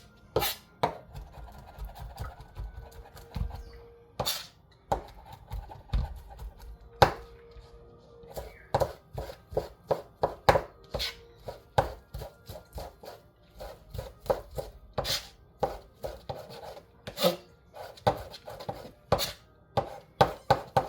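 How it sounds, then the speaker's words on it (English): Vegetables chopped as finely as possible for kimchi, a near, crisp run of knife strikes against a board, sometimes steady and sometimes in quick clusters, with no talking. "I'm going to kind of chop these up as fine as possible"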